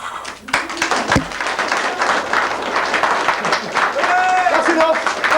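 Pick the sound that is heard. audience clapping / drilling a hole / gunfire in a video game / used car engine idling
audience clapping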